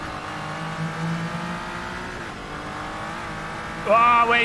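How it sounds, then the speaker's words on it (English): A car engine in the Assetto Corsa racing game sounding broken, a droning buzzy tone that holds steady and then jumps into a louder, higher rev near the end, with someone talking over it. "Listen to the car sounds broken."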